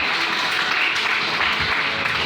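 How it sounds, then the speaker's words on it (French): Congregation in a church service applauding and cheering for the Lord, a dense, steady wash of many hands clapping close by with a crowd murmur, no pauses throughout. "Est-ce qu'on peut acclamer le Seigneur?"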